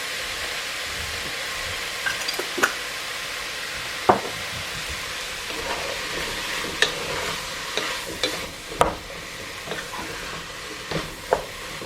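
Minestrone vegetables seasoned with turmeric sauté in a soup pot, a steady soft sizzle broken by scattered clicks and scrapes of a spoon stirring, close and moderately loud with no talking.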